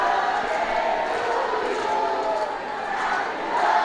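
Hockey spectators at Sengkang Stadium cheering and singing, a dense, continuous crowd roar at moderate distance, with a commentator talking over it.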